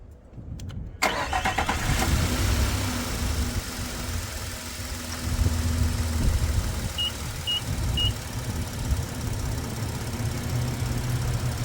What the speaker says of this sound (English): So let's start the vehicle up.